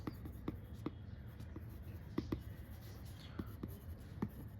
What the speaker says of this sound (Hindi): इसको हम वापस लिखते हैं